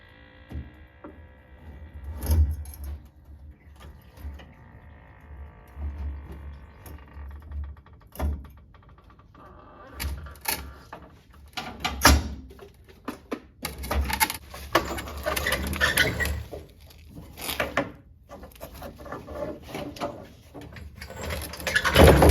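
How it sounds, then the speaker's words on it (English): Irregular clunks, scrapes and metallic knocks as a fuel tank is worked loose and pulled out from under a turbo Foxbody Mustang, scattered bursts of handling noise with quieter gaps between, close by and without speech. "so we got that fuel tank popped out of there."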